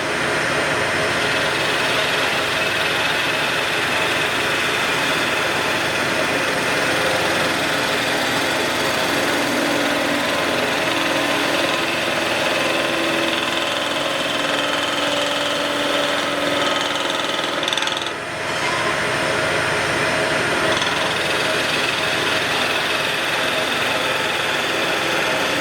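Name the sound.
wood lathe spinning, skew chisel cutting spindle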